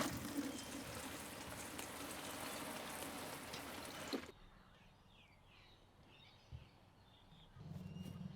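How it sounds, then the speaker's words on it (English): Water is poured into a compost bin, a steady close splashing trickle lasting about four seconds and then stopping suddenly, with quiet background and a faint brief knock afterward. "I'm just going to add a little bit of water in just to make sure that everything is nice and damp in here"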